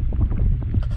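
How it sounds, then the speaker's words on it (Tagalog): Strong wind buffets a river fishing boat in a steady, loud, low roar for about a second, with no talk. "Lakas ng hangin, grabe."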